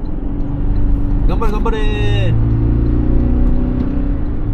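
A Toyota Land Cruiser 250 accelerating at full throttle, heard from inside the cabin as a steady low engine drone and road rumble that run beneath loud, excited talking.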